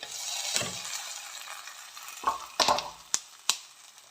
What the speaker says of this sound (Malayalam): സ്റ്റൗ ഓഫാക്കി നമുക്ക് മീൻ കറിയിലോട്ട് ഒഴിച്ചു